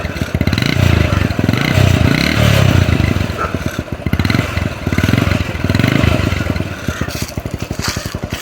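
A 1997 Kawasaki Bajaj 4S Champion motorcycle with its engine running, a loud, close, rapid two-stroke putter that swells with throttle blips and stays dense throughout.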